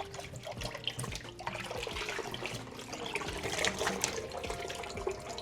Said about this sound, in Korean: 흐르는 물에 이렇게 헹궈 주셔야 돼요.